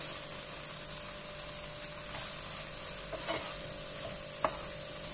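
Chopped cabbage being stirred into fried tomato paste in a pot, a soft steady sizzle with a few scraping stirs and clinks near the end, close and fairly quiet with no talking.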